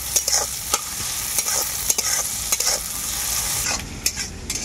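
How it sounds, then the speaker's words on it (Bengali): Onions frying lightly in hot oil for a Bengali bhindi (okra) dish, a steady close sizzle with a spatula scraping and stirring through it at irregular moments, no talk. "এরপর পেঁয়াজটাকেও আমি হালকা করে ভেজে নেব"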